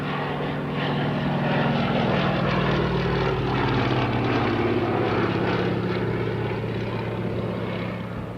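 Fairey Swordfish 2 biplane, built in 1943, flying at the 1986 RAF Halton airshow, its propeller engine droning steadily and loudly throughout with a low, continuous rumble.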